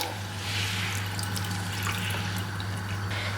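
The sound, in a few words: cold water poured to rinse cooked rice ada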